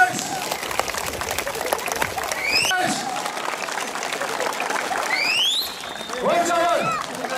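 Applause for swimming instructors at an end-of-season event, a scattered crowd clapping under a loud voice over a microphone, with whistle-like sweeps and background chatter.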